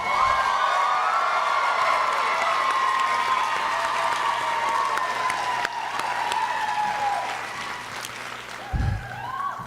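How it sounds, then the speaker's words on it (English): Audience applause fills a career and technology center graduation ceremony, sustained clapping with scattered cheers and whoops that swells, dips briefly and carries on for nearly ten seconds. "let's give them the round of applause they deserve"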